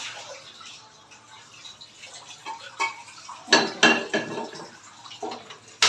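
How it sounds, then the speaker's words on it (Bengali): A pressure cooker is rinsed before cooking haleem, with water splashing and metal knocking and clanking in a cluster of sharp, close hits. "তো কুকারটাকে একটু ধুয়ে নিয়ে তারপর হচ্ছে বসিয়ে দিচ্ছি।"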